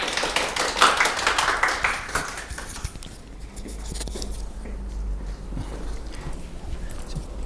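Audience applause at a Korean education information session as a teacher is welcomed to the stage, a dense burst of clapping that swells early and then thins into scattered claps and room noise.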